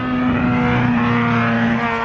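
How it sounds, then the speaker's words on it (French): A Suzuki Swift with a holed exhaust runs on the Sepang circuit in Malaysia, giving a steady, loud, raspy engine drone with a strong low hum throughout, close by and without talk. "Tu vois, c'est une Suzuki Swift. Avec un trou dans le pot apparemment."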